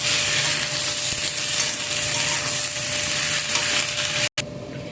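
Chopped spring onions fry in a hot pan alongside potatoes, a steady close broadband sizzle holding for about four seconds before cutting off abruptly, then quieter frying continues.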